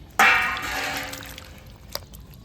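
Water is poured onto a dish to rinse it outdoors in a village setting, making a sudden splash that fades to a trickle within about a second, followed by a faint clink.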